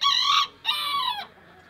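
A soaked rooster and hen fresh from a dousing make two loud, close clucking calls in quick succession, the first a bit shorter, with a brief pause between them and no talk.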